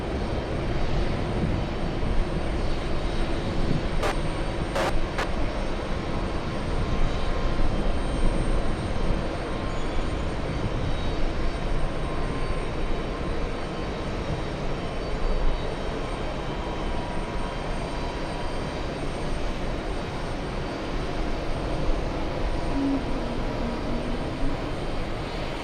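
Kuwaiti and French Boeing 777 jets at JFK, a broad continuous engine roar holding steady at moderate distance for the whole stretch, with no talk over it.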